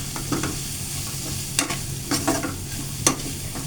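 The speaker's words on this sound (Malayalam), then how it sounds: "മല്ലിപ്പൊടി, ഇത് രണ്ടും കൂടെ ചേർത്ത് നമുക്കൊന്ന് ഇളക്കാം." Chilli powder, turmeric and coriander powder being stirred in a hot pan: a steady sizzle with repeated scraping strokes of the spoon, close and fairly loud, with no speech.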